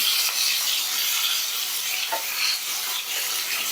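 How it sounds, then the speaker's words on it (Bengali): Hilsa fish fry in hot oil in a pan with a steady, close sizzle as the pieces are flipped, and a faint clack of the utensil partway through. "আমি অপর পিঠটা ভাজার জন্য আবারও উল্টে দিচ্ছি"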